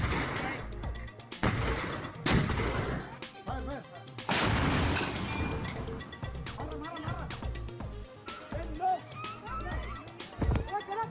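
Gunfire along the Line of Control between India and Pakistan in news footage: a series of loud, sharp bangs and booming blasts at irregular intervals, echoing over continuous background noise, with faint voices in the mix.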